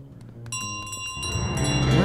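A bell ringing in Untitled Goose Game, a sustained metallic tone with bright overtones that swells louder toward the end, mixed with other game sounds and a voice.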